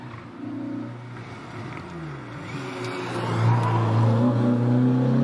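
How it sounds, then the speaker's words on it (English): A 2-litre Renault Clio racing up the Prescott hill climb, its engine note rising and shifting as it accelerates and draws nearer, growing louder toward the end. "Here's Isabella Lawrence in a Clio, 2-litre Clio."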